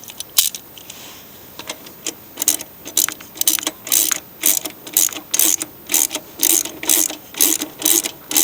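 Socket ratchet clicking in repeated quick bursts while tightening a lawn mower blade back onto the mower during a tune-up, close and loud with brief pauses between strokes.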